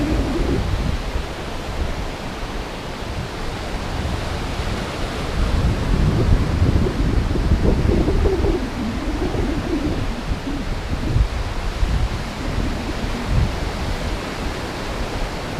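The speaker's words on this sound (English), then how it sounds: "The sound is enabled so you can hear the sounds of the ocean." Ocean surf on Trinidad's north coast, a broad continuous wash of waves swelling and easing, steady and moderately loud with no voices.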